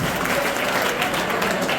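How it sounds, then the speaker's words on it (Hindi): Audience in a school meditation program at Dr Kiran Saujiya Senior Secondary Academy claps loudly and steadily, a dense wash of many hands filling the whole moment without a break. "जोरदार तालियां बजाइए"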